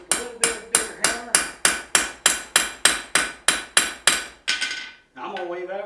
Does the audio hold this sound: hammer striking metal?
yes